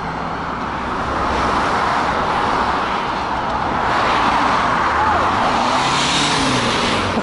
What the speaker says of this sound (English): Why they're driving like maniacs on this road.